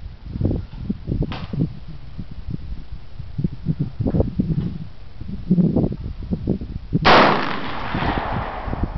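An AR15 rifle is fired outdoors from a standing position: a faint crack comes early, then one loud sharp report near the end with a rushing tail, amid rustling and handling noise.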